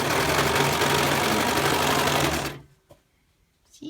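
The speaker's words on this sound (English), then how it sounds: "See it sewing?" Sewing machine stitching fabric for a doll bed, running loud and steady with a fast mechanical whir for over two seconds, then stopping abruptly into near silence with a couple of faint clicks.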